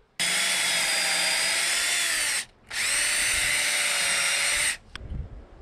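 A Ridgid hammer drill bores a hole for half-inch, four-inch-long lag bolts in a backyard pergola build, two loud sustained whining runs with a short pause between, then stopping.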